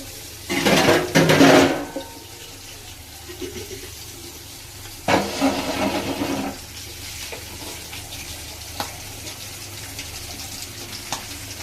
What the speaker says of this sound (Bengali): এই যে মা বাসন মাজছে, সবাইকে ভাত দেবে।